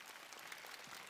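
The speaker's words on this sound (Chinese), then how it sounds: "来，给她拍拍掌声鼓励一下" Audience applause in a large hall during a magic act at a televised Spring Festival Gala: a faint, steady wash of many clapping hands, distant and continuous throughout.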